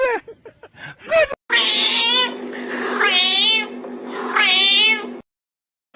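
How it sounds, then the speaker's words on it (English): A house cat meows three times in long, drawn-out wavering cries, close and loud, each one separated by a short pause, after a brief burst of speech at the start. "This house cat."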